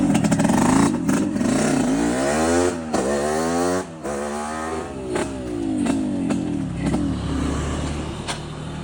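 A motorcycle engine revs repeatedly, its pitch sweeping up and down in loud, close bursts with a rough idling rattle between them.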